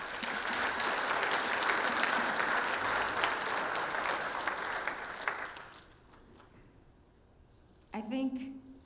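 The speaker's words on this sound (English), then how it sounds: "join me in giving you a round of applause for being here" Audience applause at a county government State of the County event, loud and sustained for about five seconds before fading, followed by a brief voice near the end.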